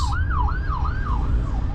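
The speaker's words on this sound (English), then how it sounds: "Couple ambulances. Lutheran EMS." Wailing ambulance siren from a Lutheran EMS unit on the streets of Fort Wayne, Indiana, rising and falling steadily in a loud, close sweep over the low rumble of road and engine noise.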